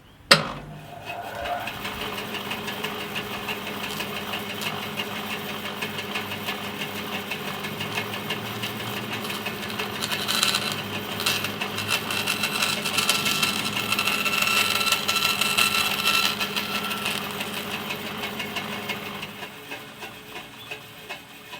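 A woodworking machine steadily shaves down a wooden back brace for an acoustic guitar, taken off half a millimetre at a time. A continuous, fairly loud mechanical whine and hum runs throughout, swelling slightly midway and stopping near the end.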